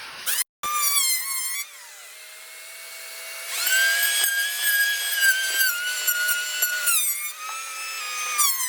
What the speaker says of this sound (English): I am going to smooth this down with a planer.